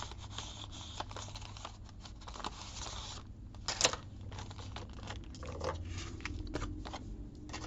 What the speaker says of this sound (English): I'm just going to poke my scissors in here